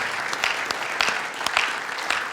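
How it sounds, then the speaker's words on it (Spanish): A church congregation claps in praise to the Lord, a fairly soft, even wash of many hands with faint rhythmic accents pulsing through it and no voices on top. "Dale el aplauso de alabanza al Señor."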